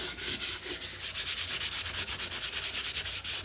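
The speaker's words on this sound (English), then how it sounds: "time for some distressing. Just using 220 sandpaper." Steady rhythmic rubbing strokes of 220-grit sandpaper distressing paint on a thrifted home decor piece, close and fairly loud, each stroke a quick scratchy swish with no talk.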